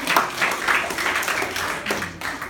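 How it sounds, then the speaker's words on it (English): Audience applause at a Spectrum College Colombo event, a steady patter of many hands clapping through the whole moment, fairly close and moderately loud, with no voices over it. "We've also got to give a big round of applause to our parents and guardians here today."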